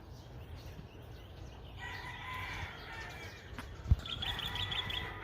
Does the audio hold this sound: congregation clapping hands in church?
no